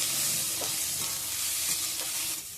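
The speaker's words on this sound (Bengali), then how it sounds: "এরপর আমি দিয়ে দেবো টমেটো, গাজর আর অল্প করে বাঁধাকপি। নেড়ে চেড়ে আমি ভেজে নেব।" Tomato, carrot and a little cabbage stir-fried in a pan give a steady, close sizzle broken by a few scraping stirs, with no voices.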